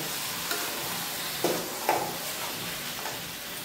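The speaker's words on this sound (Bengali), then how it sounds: "মাংসটা দিয়ে এবার ভালো করে একটু মাংসটা সময় নিয়ে বেশ ভালো করে কষিয়ে নেব" Chicken pieces being slowly stir-fried in a pan for kosha, a continuous even sizzle with a few soft spatula knocks, close and steady without speech.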